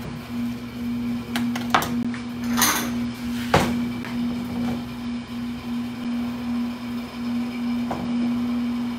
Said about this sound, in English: I'm making some julienne red peppers.